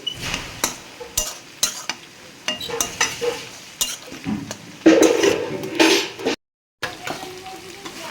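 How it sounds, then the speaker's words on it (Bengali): Water spinach frying in a pan, with bursts of sizzling and stirring scrapes in an irregular rhythm, close and fairly loud, plus a brief silent gap near the end. "কলমি শাক ভাজা বসিয়েছি"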